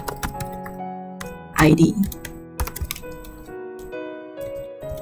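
Keys clatter on a computer keyboard in short bursts during data entry, and a voice speaks briefly partway through.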